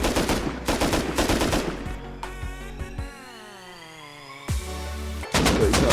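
Gunfire in the video game Rust Console Edition, a few sharp bursts of shots at the start and again at the end, with a quieter stretch of tonal game sound between them and no talk.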